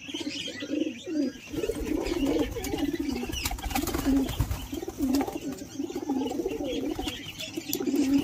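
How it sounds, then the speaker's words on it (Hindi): Pigeons squabble in a loft, cooing in repeated low throaty bursts amid scattered sharp wing flaps and scuffles, continuous and fairly close. "तो देखेंगे थोड़ा कबूतर जो है थोड़ा झगड़ा कर रहे"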